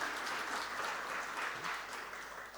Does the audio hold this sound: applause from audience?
yes